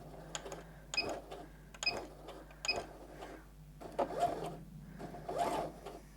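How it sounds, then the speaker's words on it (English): A sewing machine stitches forward on a pair of tapered-leg trousers in short rattling bursts, about five quick runs separated by brief pauses, close and clear with no talking. "So I'm going to do a couple of stitches forward."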